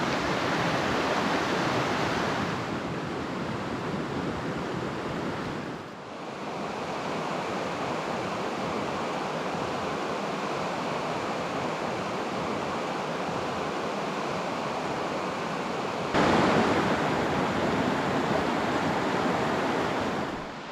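Salmo River rushing past a tent in the Salmo-Priest Wilderness of northeast Washington, a steady broadband wash of flowing water close by that dips briefly and swells louder near the end, with no talking.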